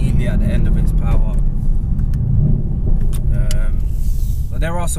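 Tuned 625 bhp Mercedes C63 S pulling hard in fourth gear, a steady loud engine roar heard from inside the car, with occasional clicks and rattles over the drone.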